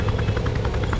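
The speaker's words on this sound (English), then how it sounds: "Let's find a helicopter. I can hear one." Helicopter in the video game Wildfire Worlds, a steady rotor chop with rhythmic blade thumps, fairly loud and continuous with no talking.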